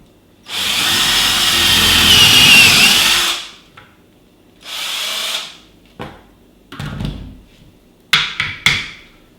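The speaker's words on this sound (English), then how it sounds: "with a 6-7 mil bit, drill a hole straight through." A power drill with a 6-7 mm bit whirs loudly through a board for about three seconds, then comes a shorter burst and several brief bursts with knocks and scraping of the board between them.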